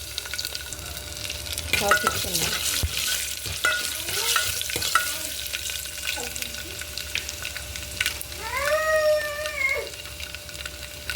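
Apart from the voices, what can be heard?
onions frying in tempering oil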